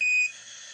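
The Apollo 11 lunar module's 1201 program alarm sounds as a single short, high-pitched electronic beep lasting about a quarter second, followed by faint radio hiss.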